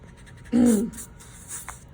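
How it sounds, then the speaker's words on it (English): Pencil lines rubbed off paper with an eraser, a short close burst of dry scratchy rubbing lasting under half a second, followed by faint quieter friction. "I'm going to erase."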